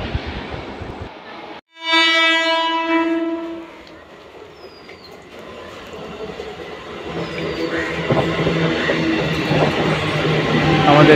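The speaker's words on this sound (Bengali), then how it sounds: "আমাদের ট্রেন চলে এসেছে।" A train pulls into a busy station: a loud horn blast rings out near the start, then the rumble and clatter of rolling wagons steadily builds as the train arrives, with people talking in the background.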